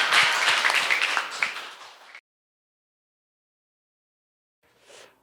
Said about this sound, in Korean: 큰 박수로 저희 들어가는 길 마주하도록 할게요.